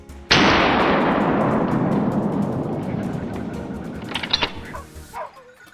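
A rifle shot on a boar hunt in a snowy pine forest cracks out once, loud and close, then rolls away in a long echoing decay, with dogs barking faintly near the end.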